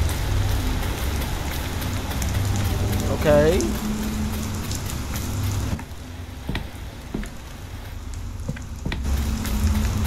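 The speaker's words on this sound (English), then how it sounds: "I got drenched in rain." Steady rain from the game Fears to Fathom: Ironbark Lookout, a continuous dense hiss of drops on surfaces at a constant level, with a short word spoken over it.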